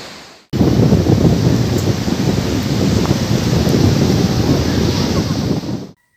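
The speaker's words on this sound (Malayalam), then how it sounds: "കടലിന്റെ കാറ്റ്" Strong sea wind and rolling surf at Snehatheeram beach in Vadanappally, a steady loud roar with heavy wind buffeting on the microphone that starts abruptly after a brief quiet moment and runs nearly to the end.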